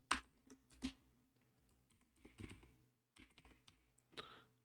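Keys clatter on a computer keyboard as Swift code is typed, with scattered clicks in short bursts separated by pauses, close and fairly quiet, with no talking.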